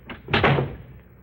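A door slams shut indoors in an old radio drama, one loud, close impact with a short rattling decay, heard alone with no voices.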